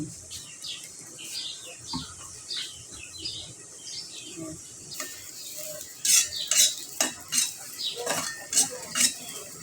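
Chilies fry in a pan while a metal spoon stirs and scrapes in quick repeated clinks, with birds chirping in the background and the scraping growing louder toward the end.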